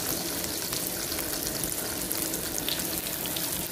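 Butter sizzling steadily in a pan as a saute begins for barbecue-style ramen, a continuous dense frying hiss close up, with no talking and no break.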